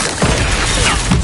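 The Stupefy spell is cast during combat in the Hogwarts Legacy video game, a loud, close magical whoosh and crashing impact burst lasting about a second.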